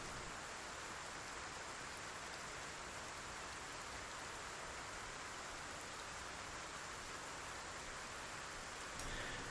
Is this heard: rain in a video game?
yes